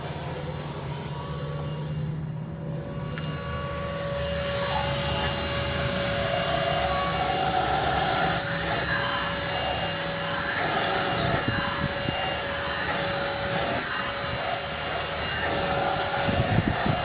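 APOSEN H20-4 cordless car vacuum cleaning car carpet, a steady close whirring hum running throughout with slight shifts in pitch as the nozzle moves over the fibres.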